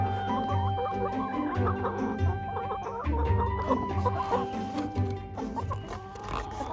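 Backyard chickens cluck and murmur close by in a steady, overlapping chatter, with brief louder calls now and then and no voices.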